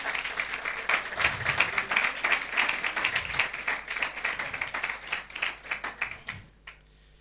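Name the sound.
congregation applause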